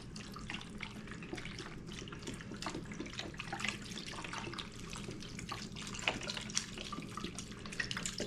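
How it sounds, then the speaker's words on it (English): Vegetable broth pours into a cooking pot for a pork neck bones and potatoes gravy, a faint, continuous liquid splashing and trickling that lasts about eight seconds. "next thing we want to do is add 3 cups of broth. I'm using vegetable broth."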